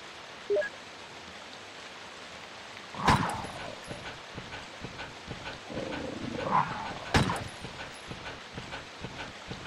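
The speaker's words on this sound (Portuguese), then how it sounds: "3, 6, 9 cachorros" Dogs in the Resident Evil video game, heard as two sharp snarling bursts a few seconds apart over a low, steady game ambience, with softer rustling noises between them.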